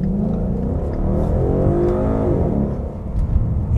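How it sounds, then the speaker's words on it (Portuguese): The V8 of a new Ford Mustang GT with 435 cv revs up close, a deep rumbling roar rising and falling with throttle blips, loud and unbroken. "Esse V8 ronronando, griberrando aqui no ouvido é fantástico."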